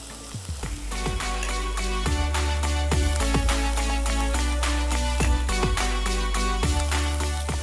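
Garlic and ginger paste fries in hot oil on a television cooking show, giving a steady loud sizzle with regular rhythmic beats running through it.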